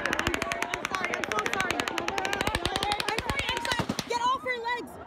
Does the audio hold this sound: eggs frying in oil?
no